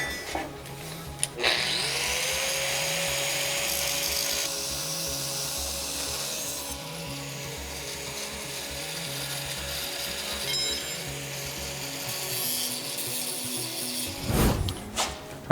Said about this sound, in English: Just any angle grinder with the cutoff wheel should do.